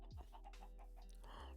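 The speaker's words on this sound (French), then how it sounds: "Les petits poulets." Small chickens in a Minecraft-style survival video game cluck softly a few times, faint and short against a steady low background hum.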